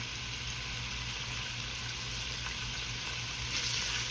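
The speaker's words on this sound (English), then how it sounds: "I'm gonna get the bacon in here. Like I say, I want to get this rendered all the way." Bacon rendering in a pot, giving a steady, faint broadband sizzle that runs unbroken throughout with no talk.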